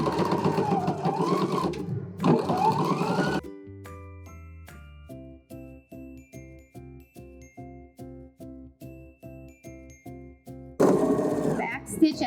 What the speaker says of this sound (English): let's sew this 1/2 inch all the way around